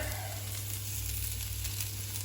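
Potatoes fry steadily in a hot pan, a continuous close sizzle and crackle crisping them for an Austrian blood sausage and potato dish, with no talk over it.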